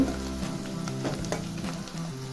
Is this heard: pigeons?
no